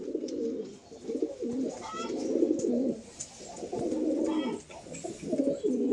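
A pair of large Kaldom pigeons coo repeatedly at close range in soft, throaty rolling bursts with short pauses between calls.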